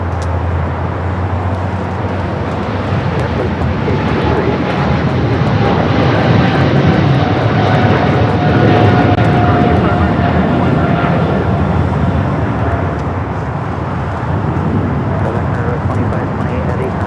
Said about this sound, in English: China Southern Cargo, the 777 freighter rolling down at 25 at right.